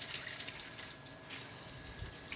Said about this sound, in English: I'm going to rinse them directly under cold water.